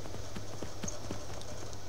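Horse hooves clip-clop at a steady walking rhythm in the video game Skyrim, fairly close and moderately loud over a low background hum.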